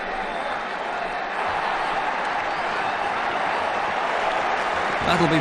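Steady crowd applause in a cricket video game match between India and New Zealand, a dense continuous roar of clapping lasting throughout at constant strength, with a faint commentator-like murmur underneath.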